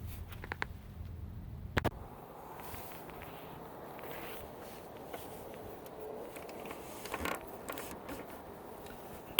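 Small mechanical creaks, clicks and a few sharp knocks come from fitting and tightening a windscreen washer nozzle on a Series IIA Land Rover, with faint handling noises between them.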